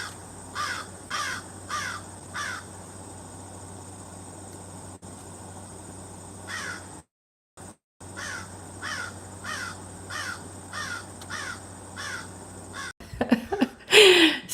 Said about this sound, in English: Hey, Mike, I'm trying to get my crows.